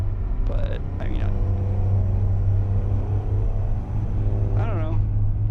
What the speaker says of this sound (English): T680, the 2014 version. Yeah, the truck sounds great.